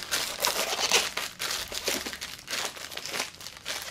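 A plastic piping bag with a French star tip crinkles and rustles continuously while its inside is coated with dioxazine purple acrylic paint, a close, crackly handling sound with no talking.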